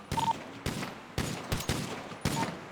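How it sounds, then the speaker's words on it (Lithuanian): Gunshots fired one at a time in a Hitman game: five sharp, loud reports spaced roughly half a second apart, each with a short ringing tail, no voices. "Tai po vieną ir šaudau."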